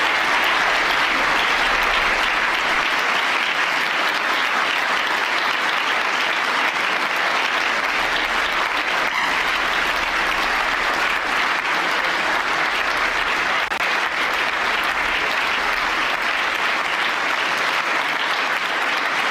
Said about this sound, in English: I want you guys to take a look at the crowd's reaction after Rubio's speech.